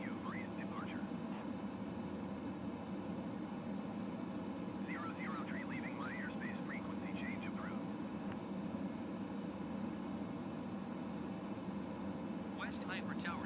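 A small airplane's engine drones steadily in the cabin just after a short takeoff, a constant low hum filling the whole stretch while brief faint radio chatter comes and goes.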